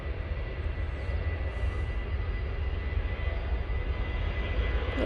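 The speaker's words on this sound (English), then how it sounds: "Next out is this Jet 2, and I can tell you that right now is off to Belfast." Jet2 airliner departing Manchester Airport, a steady broadband engine roar that holds loud and constant throughout, with no talk over it.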